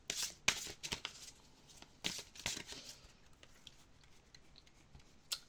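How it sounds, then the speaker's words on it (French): Crystal oracle cards are shuffled and drawn in close, crisp bursts of riffling and flicking, with quiet pauses between handfuls and a last sharp snap near the end. "on va tirer une carte de l'oracle des cristaux"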